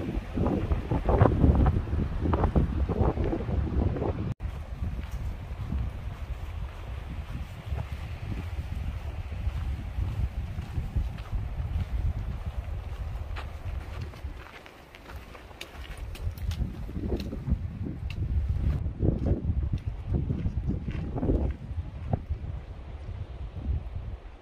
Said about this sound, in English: it sounds like the next 10 miles are going to be a wind tunnel